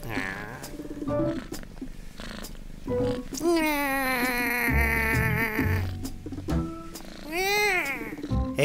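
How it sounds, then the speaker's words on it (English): A cat meows repeatedly in rising and falling cries, loud and close, with voices talking around it. "Hey, new cat."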